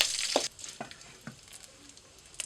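Hot ghee sizzles loudly in a pan with cumin seeds, cashews and curry leaves at first, then settles to a softer crackle with a few scraping stirs.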